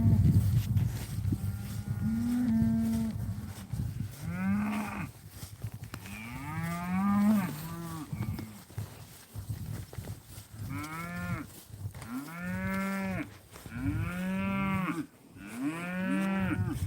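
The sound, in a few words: cattle mooing in a pasture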